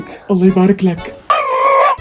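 A speech-like voice with low harmonics, then a rooster's sustained higher-pitched crow held for under a second, close and loud.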